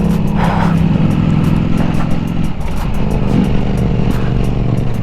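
A Ducati Panigale V4S motorcycle engine revs loudly and nearby in a continuous, uneven roar with rapid pops and crackles across the stretch, and no one speaking.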